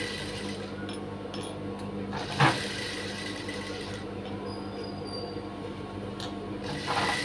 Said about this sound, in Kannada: ಈಗ ಇಲ್ಲಿ ಒಂದು ಕಿನಾರಿ ಸ್ಟಿಚ್ನ ಹಾಕ್ತೀನಿ